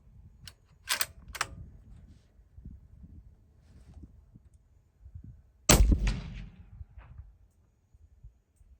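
Report of a suppressed big game rifle at a range, one loud sharp blast around midway with a short rumbling decay, preceded by a couple of fainter clicks or bangs, with wind noise throughout and no talking.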